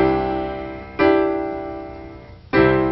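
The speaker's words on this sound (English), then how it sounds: "for a 2 suspension, you're playing the 2, 3, 5, and it resolves to the 1" Piano playing a suspended-2 chord (notes 2, 3 and 5) that resolves down to the 1: three sustained chord strikes, each ringing and slowly decaying, played alone with no talking.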